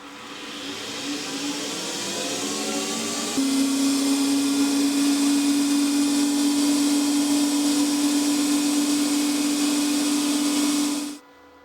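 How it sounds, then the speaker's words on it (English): A small metal lathe turns down round sections on a square rod for a miniature mine model, a steady whining hum that holds one pitch, steps up slightly partway through, then cuts off at the end. "Next step was on the lathe, turning down the round sections on the square rod."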